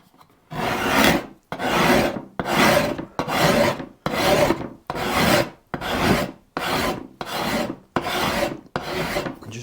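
A sharp card scraper is pushed across glued wood joints on a thinline bass build, taking off glue residue and levelling the two pieces. Ten or eleven close, loud rasping strokes come in a steady rhythm, each a broad scrape with short gaps between.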